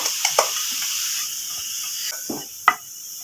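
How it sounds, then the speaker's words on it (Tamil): Sesame seeds dry-roasting in a pan give off faint, scattered pops and crackles, a few sharper snaps standing out over a soft continuous hiss. "எள்ளு வறுபட்டு எடுத்து பாருங்கள். வெடிக்குது பாருங்க, பட்டு பட்டுன்னு தெரியுது."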